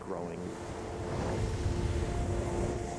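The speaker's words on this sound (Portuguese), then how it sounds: "E as ondas começaram a aumentar." Wind and growing waves on the open Atlantic around a sailboat in worsening weather, a steady broad roar and wash rising slightly in loudness, with no voices.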